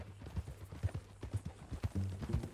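Horse hooves clip-clopping at a steady walking rhythm in Red Dead Redemption 2, close and distinct, with a low steady hum underneath and a brief heavier rustle near the end.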